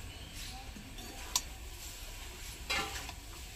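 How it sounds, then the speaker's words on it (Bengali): A spoon stirs a sugared mixed-vegetable and ash gourd stem curry in a pan, making soft scraping over a faint low sizzle, with two sharp metallic clinks against the pan. "এবার একটু নাড়িয়ে চাড়িয়ে উনুনে আরো 5 মিনিট মতো রেখে তারপরে নামিয়ে নেব"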